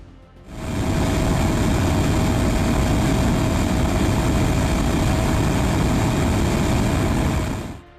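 Fighter jets flying low overhead, a heavy, steady roar with a constant engine drone that sets in abruptly, holds loud for about seven seconds, then cuts off.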